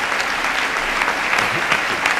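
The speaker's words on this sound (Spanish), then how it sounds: "El señor Menuhin corresponde a los aplausos." Steady audience applause at the 1997 Prince of Asturias Awards ceremony, honouring a celebrated violinist; a brief stretch of dense, even clapping from a large crowd, fairly loud, with no speech over it.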